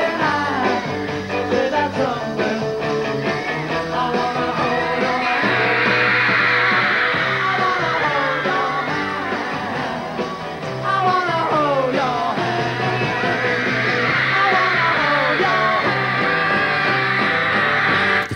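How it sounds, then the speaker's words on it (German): A crowd of young fans shrieks in a dense, sustained mass over loud rock music, the screaming swelling in two broad waves. "wie so eine Schocktherapie vorher ruhige Jugendliche in einen kreischenden Mob verwandelt"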